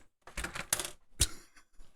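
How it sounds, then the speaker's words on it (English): A keyboard case is pried open with a few sharp plastic clicks and snaps, three distinct cracking bursts in quick succession followed by faint rattling, close and alone. "So I need to pry this thing open."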